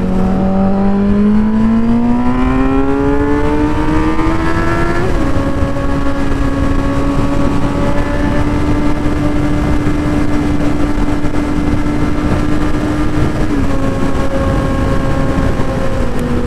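A motorcycle ridden on the road toward LA, its engine droning steadily and climbing through a couple of gear shifts, loud and close under constant heavy wind rush.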